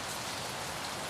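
Steady rain pours down in Syracuse, a soft continuous hiss of drops on surfaces, fairly faint and even throughout, with no speech.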